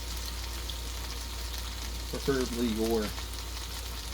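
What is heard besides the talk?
food sautéing in a pan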